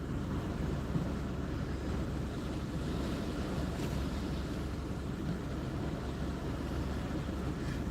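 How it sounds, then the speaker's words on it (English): Sea waves wash against the Gynn sea wall at Blackpool during a fishing session, making a continuous low roar. Wind buffets the microphone throughout, no single crash stands out, and nobody speaks. "I think it might have been waves crashing on the line."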